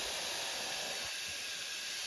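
A pressure cooker cooking vegetables gives off a faint, steady hiss of escaping steam, continuous and even for the whole two seconds.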